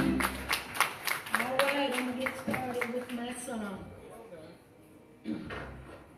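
Church congregation at a deacons' musical celebration claps hands in a steady rhythmic beat, sharp regular claps under singing voices, fading briefly before a final clap returns.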